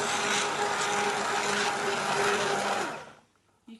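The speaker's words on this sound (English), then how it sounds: "So you put the stick blender into the pan and then press the button." A stick blender purees leek and potato soup in a pan, a loud steady whirring motor buzz with sloshing for about three seconds before it cuts off, leaving near silence and a small clunk.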